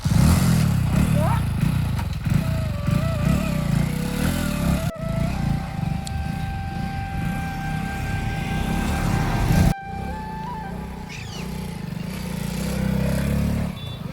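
A balky motorcycle that won't start properly, its engine cranking and running rough with a wavering whine and rattles, fairly close and loud, while people talk over it.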